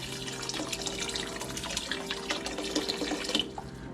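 Water poured from a tap onto crushed red wine grapes to make fresh juice, a steady close splashing stream with small drips throughout, no talking.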